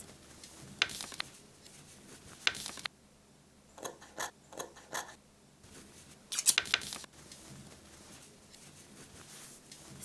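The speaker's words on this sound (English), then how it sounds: "Cut panels from remaining legs." Scissors cutting denim panels from old jeans legs, with a few bursts of crisp snipping and crunching through heavy fabric separated by quieter stretches.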